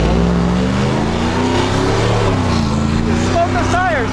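Supercharged Chevrolet Silverado Trail Boss with a Whipple supercharger launching off the brake, its engine roaring loud and steady throughout, with a rising whine near the end as a voice talks over it.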